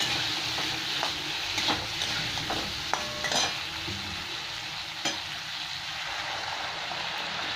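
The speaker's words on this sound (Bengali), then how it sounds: "এবার আমি গরম জল দিয়ে দিচ্ছি" Hot water goes into fried spices in a pan for a Bengali fish curry with potatoes, raising a continuous hissing sizzle with scattered stirring clicks and knocks, close and fairly loud.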